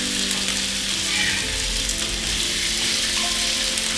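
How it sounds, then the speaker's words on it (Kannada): Fish fries on an iron pan with a loud, continuous, close sizzle and crackle that holds steady throughout, with no talking. "ಆ ಮೀನು ಹುರಿತಾ ಇದ್ದೀನಿ"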